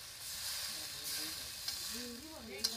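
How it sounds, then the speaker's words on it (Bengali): Okra curry sizzling and hissing steadily in a pan as water is poured into the fried spice paste, a continuous close frying hiss with a few small pops and faint voices in the background. "মশলাটা কষানো হয়ে গেছে, এবার আমি জল দিয়ে দিচ্ছি।"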